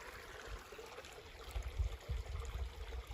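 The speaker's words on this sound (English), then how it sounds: "a little spring that's popping out here underneath these ferns and all this up in here, and it's running out here into this little creek" A small spring trickles out from under ferns into a little creek in the Ozarks woods, a faint, steady outdoor babble with soft low rumbles that swell slightly toward the end.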